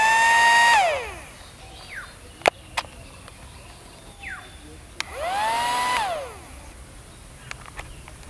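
An automatic Gatling bubble gun machine whirs up, runs briefly and winds down twice, with a rising and falling motor tone and a few sharp clicks from handling in between.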